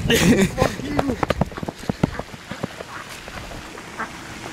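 Several ducks quacking in a quick burst near the start, mixed with voices and scuffling footsteps, then the noise tapers off.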